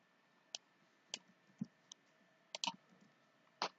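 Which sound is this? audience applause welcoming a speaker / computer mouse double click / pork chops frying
computer mouse double click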